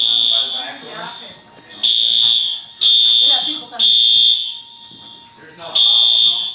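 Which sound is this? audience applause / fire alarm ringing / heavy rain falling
fire alarm ringing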